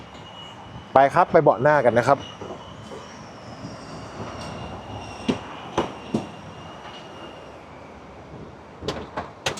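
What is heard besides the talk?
opening door of Mercedes-Benz Vito van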